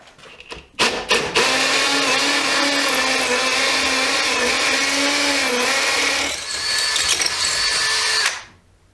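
A Makita HP332D 12V cordless drill bores an 8mm hole into block, a loud, steady high whine that starts abruptly, dips briefly near the end, then cuts off.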